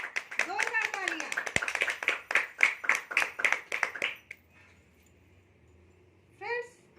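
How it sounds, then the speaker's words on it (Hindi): An audience at a women's empowerment and health programme claps loudly in a fast, rhythmic unison beat for about four seconds, then stops abruptly into near silence. A voice is heard at the start and again briefly near the end. "एक बार जोरदार तालियां हो जाए अपने लिए, जोरदार तालियां।"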